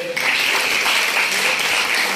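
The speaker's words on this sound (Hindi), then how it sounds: "हमारे ट्रांसपोर्ट वाले भाई साहब के लिए जोरदार तालियां बजाइए" Enthusiastic audience applause at a Vivo mobile phone event in India, a dense, steady burst of many people clapping that fills the short clip at close range.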